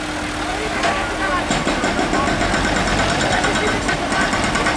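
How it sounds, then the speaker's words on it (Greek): A steady engine drone with a repetitive mechanical rattling on top from a construction drill working nearby, while someone talks over the noise. "Ακούγεται και το τρυπάνι."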